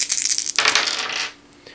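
Several dice roll and clatter together onto a hard tabletop during a tabletop game. The loud, close rattle is made of quick, bright knocks that settle and die away after about a second, with no talking.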